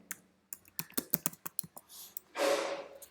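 Computer keyboard keys typed in a quick, uneven burst of crisp clicks, ending with a longer hiss-like clatter; no talking.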